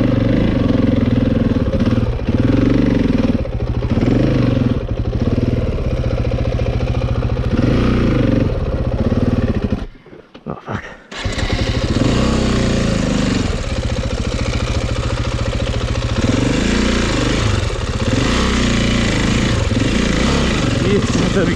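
A KTM 450 EXC enduro motorcycle idles with a steady, loud, close chugging throb that cuts out briefly partway through and then resumes, while people talk over it.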